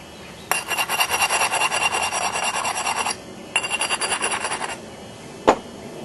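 Edge of a stone biface being abraded, a close, loud rhythmic scraping rasp in two quick bursts of strokes, followed by a single sharp knock.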